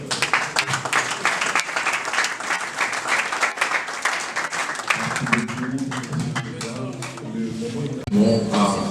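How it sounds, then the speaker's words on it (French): An audience at a public health launch ceremony claps in a brisk, uneven round of applause, then a voice starts speaking over the tail of the clapping before it dies down. "Vos acclamations ne sont pas à la hauteur."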